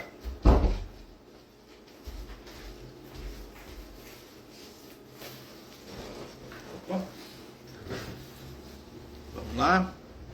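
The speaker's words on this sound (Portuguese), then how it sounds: "Deixa eu abrir a porta, que tem um gato aqui derrubando minha porta." A house door opens to let in a cat that has been pushing against it, with a few knocks and clatters over quiet room noise and a brief thud near the end.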